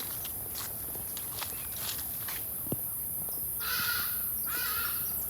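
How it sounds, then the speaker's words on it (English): Crows caw outdoors in a few spaced, fairly distant calls, alongside faint footstep-like scuffs and a soft hiss of background air. "Ooh, these birds."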